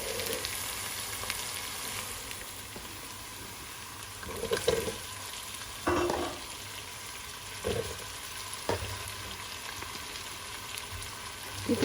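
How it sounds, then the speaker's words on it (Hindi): Onions frying in a pan with garlic and finely chopped green chillies for a mixed aloo gobi gajar sabzi, a steady close sizzle broken by several louder scraping stirs, with no talk. "थोड़ा सा लहसुन हो जाता है तो फिर इसके बीच में प्याज ऐड करेंगे।"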